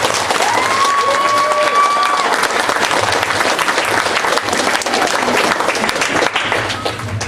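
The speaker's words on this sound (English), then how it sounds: "the coaches, if we could give them a big round of applause" Loud, steady audience applause with some cheering for football coaches at a youth football and cheerleading awards banquet, with voices mixed in throughout.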